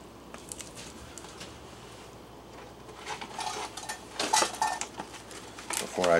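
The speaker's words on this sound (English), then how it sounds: "We will pour that over all this meat." Worcestershire sauce poured over a bowl of raw meat and stirred, with clinking utensils and dish sounds, wet sloshing and scraping that grow busier and louder toward the end.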